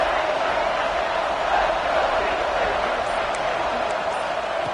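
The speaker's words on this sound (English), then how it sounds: "the crowd really making some noise now, trying to help out this defense to get this stop near the goal line" Football stadium crowd roaring to urge on the home defense during a goal-line stand in a Clemson game: a dense, steady wall of broad crowd noise, loud and sustained throughout with no distinct voices.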